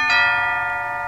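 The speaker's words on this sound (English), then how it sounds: "I was snapped back into reality by the sound of the bell announcing noon." A school bell rings out noon in the game Symphonic Rain, one loud bright chime that strikes sharply and then rings on with sustained tones, slowly fading.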